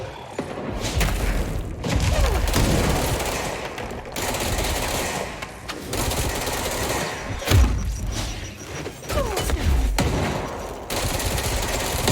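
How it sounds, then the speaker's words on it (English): Enemy gunfire in the video game Control, loud bursts of automatic fire and heavy thuds repeating close by across several seconds, broken by brief lulls. "Stop shooting me!"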